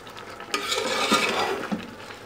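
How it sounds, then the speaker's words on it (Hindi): A spoon stirring rice as it boils in a pot for chicken pulao gives a steady scraping, bubbling wash with a few sharper knocks against the pot. No one speaks. "इस वक्त हम एक दफ़ा इसमें चम्मच हिला देंगे"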